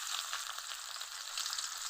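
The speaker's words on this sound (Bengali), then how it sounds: "তেল গরম হয়ে গেছে, দিয়ে দিব পেঁয়াজ কুচি" Chopped onion dropped into hot oil for a potato filling sizzles with a steady, bright hiss that holds evenly throughout, close by and unbroken, with no talking.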